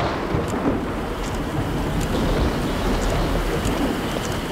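A heavy rainstorm pours as a dense, loud, unbroken roar, with a low rumble running beneath the steady downpour.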